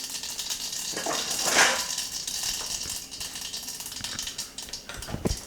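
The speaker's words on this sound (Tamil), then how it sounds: "கடுகு வெடிக்கட்டும்." Mustard seeds splutter in half a spoon of hot ghee in a kadai, giving a faint, quiet sizzle dotted with small irregular pops and crackles, with no voices.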